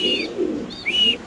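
Pigeons coo briefly, close by, at a pigeon seller's stall where Spanish male pigeons are kept, with a couple of soft calls and a faint chirp, no talk.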